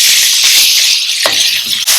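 Venison sizzles in hot olive oil in a wok, a loud, steady, bright hiss of frying that surges briefly as the meat lands, with no voices.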